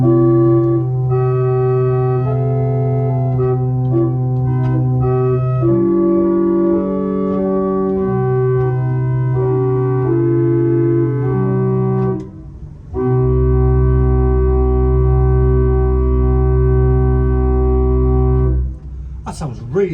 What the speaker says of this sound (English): we're going to start at the very bottom as usual with an 8-foot open diapason, which sounds like this